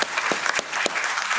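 An audience claps at an anti-poverty day event, a short steady burst of applause from a crowd with a few sharper claps standing out, with no talk.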